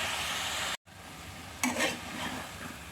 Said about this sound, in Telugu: చికెన్ ఇలా హైలో కాసేపు నీళ్ళంతా మట్టి డ్రై అయినంత వరకు వేపుకోవాలి